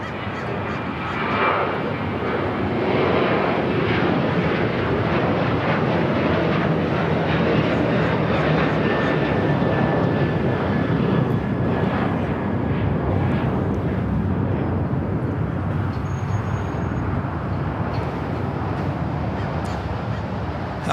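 Jet airliners taxi at LAX, with a Cathay Pacific jet turning onto taxiway Bravo, giving a loud, steady engine roar and whine that fills the whole stretch without a break.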